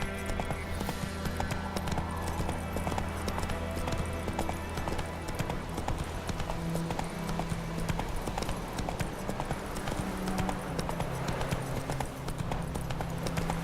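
Horse hooves clip-clopping in The Witcher 3 video game, a steady, continuous run of hoofbeats set under a dense bed of game music and ambience.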